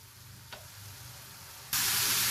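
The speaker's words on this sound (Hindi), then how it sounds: "अब इसको मैं तेज़ आंच पे ऐसे मिक्स कर रही हूँ" A rice mixture is stirred in a pan over high heat, a faint frying hiss that suddenly becomes a loud, continuous sizzle near the end.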